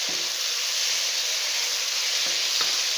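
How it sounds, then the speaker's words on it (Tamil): Biryani masala with yogurt and paneer sautéing in a pan gives a steady, loud, close sizzle that holds evenly for the whole stretch, with a couple of faint stirring knocks and no talk. "நம்ம இது நல்லா ஒரு 2 நிமிஷம் வதக்கிக்கலாம்"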